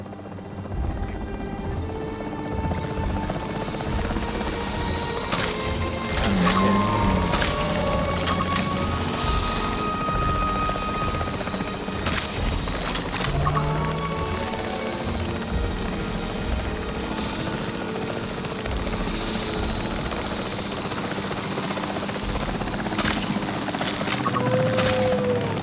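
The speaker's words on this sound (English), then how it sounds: "The priority needs to be tranquilizing it with the capture team chopper." The capture team helicopter in Jurassic World Evolution 3 thrums steadily and fairly loudly throughout, its rotor drone carrying on under scattered game effects, sharp impacts and faint alert tones.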